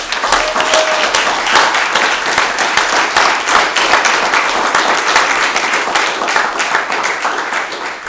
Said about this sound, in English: I just want to give a huge round of applause for these founders